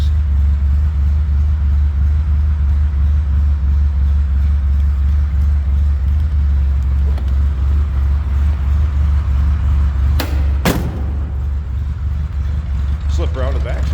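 A 1965 Triumph TR4A convertible's engine runs steadily after a cold start, a loud, deep rumbling idle heard up close with a few brief clicks and knocks near the end.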